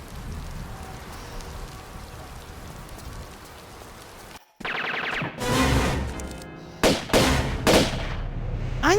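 A run of sharp, loud gunshot bursts in Tomb Raider Remastered, several close blasts in quick succession with ringing tails, following a steady rain-like wash of game ambience that cuts to silence just before the firing starts.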